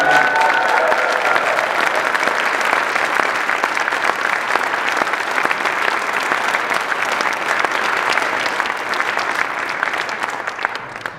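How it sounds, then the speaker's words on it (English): Sustained audience applause at a state humanities awards ceremony in Montana, a dense, even wash of many hands clapping that holds steady for about eleven seconds before easing slightly at the end. "please join me in another round of applause for all of them"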